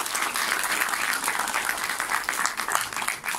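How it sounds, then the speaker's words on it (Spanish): Dense, sustained applause from a theatre audience at a World Theatre Day festival, a steady roar of many hands clapping at once that stays loud and even throughout. "Y yo pido fuerte los aplausos para todas las mujeres que están aquí presentes."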